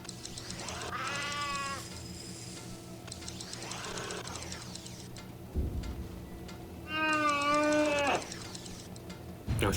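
A cat in the video game Sheltered meows about three times, drawn-out and fairly clear, between quieter pauses over a faint mechanical hum.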